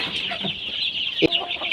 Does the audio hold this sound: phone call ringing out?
no